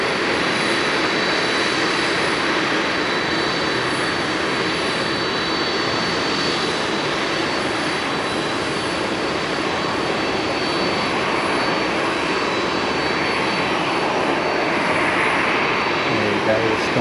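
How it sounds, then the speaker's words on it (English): A Skymark Airlines jet airliner in Pikachu livery at Haneda Airport gives off a steady, distant engine roar that holds evenly throughout, with a faint hiss over it. "Oh, you can see the Pikachu jet."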